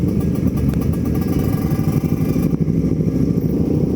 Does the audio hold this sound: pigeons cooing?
no